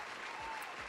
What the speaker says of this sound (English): I just want to give a round of applause to